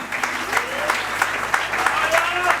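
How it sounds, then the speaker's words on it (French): A church congregation claps together in a loud, continuous round of applause with a quick, even rhythm and crowd noise underneath. "applaudissez pour faire Branham"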